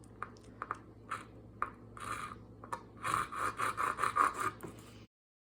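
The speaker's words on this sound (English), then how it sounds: "I'm just gonna cut it at a bit of an angle like this" A silicone packer insert part is cut at an angle up close. A few sharp isolated scrapes lead into a rapid, rhythmic run of rasping, sawing-like strokes that stop abruptly.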